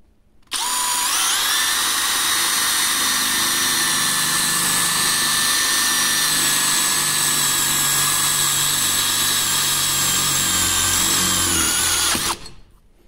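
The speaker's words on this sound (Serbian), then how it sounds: "Osam milimetara burgije iz seta, za čelik 2 mm na podnožnom mjestu zbog hlađenja burgije." A Parkside Performance PBSPA 12 C3 cordless drill at maximum speed drives an 8 mm bit into steel, a loud, steady high whine held for about twelve seconds before cutting off abruptly.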